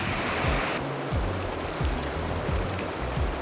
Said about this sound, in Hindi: चलते वक्त का शो सिर्फ बहते पानी का होगा।